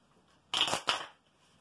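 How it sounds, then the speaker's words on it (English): Tarot cards riffled in a quiet room, two quick crisp bursts of shuffling, close and fairly soft, with no one talking. "All right, 3 shuffles."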